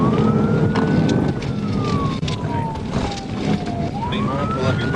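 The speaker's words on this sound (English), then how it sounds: "Sirens echoed through the streets as the chase pressed on" A police car siren wails loud and close as patrol cars chase a Mustang through city streets, its pitch sweeping slowly up and down over the roar of traffic and engines.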